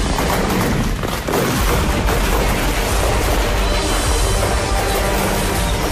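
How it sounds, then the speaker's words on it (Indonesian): A firework that failed to launch bursts on the ground in a street beside a parked car, giving loud, dense crackling blasts and booms that run continuously without pause. "Kembang api yang disulut ternyata gagal meluncur dan malah meledak di tempat."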